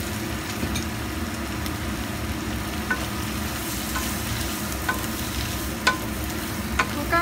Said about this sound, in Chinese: 咁而家將蝦乾已經煮咗一陣咧，咁就可以加啲聖瓜落去炒噶啦。